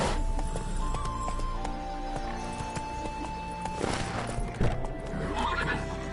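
A horse in The Witcher 3 gives a loud whinny over steady clip-clop hoofbeats as it trots, and the hooves keep drumming evenly after the neigh fades.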